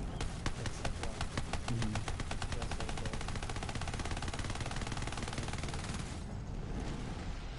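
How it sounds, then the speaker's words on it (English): Rapid, continuous gunfire rattles nonstop with dense explosive bursts, loud and busy throughout, a chaotic firefight in the video game Borderlands 3. "And every enemy that I shoot, explosions happen."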